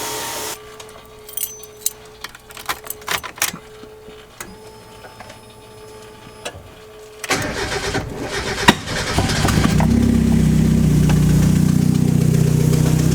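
A turbocharged car engine with blown turbo gaskets cranks and catches, then settles into a loud, steady idle after a few seconds of clicking and rattling.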